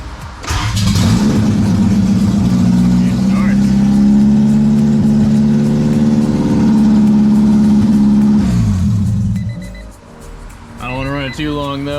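A 1991 Honda CRX HF with a swapped Si ECU cranks and fires up, settling into a loud, steady idle and a brief rev before cutting off, with a voice speaking near the end.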